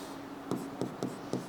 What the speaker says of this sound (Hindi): मैं फिर से यहाँ लिख दे रहा हूँ